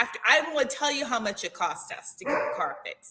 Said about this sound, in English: That's my dog confirming that I'm still not happy about it.